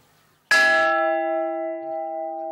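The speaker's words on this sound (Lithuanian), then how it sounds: "Plungės istorinėje laikrodinėje iškeltas varpas." A new 130 kg bell, cast at Poland's Felczyński foundry and hung in Plungė's historic clock tower, gives a single loud strike and then a clear, ringing tone that hums on and slowly fades.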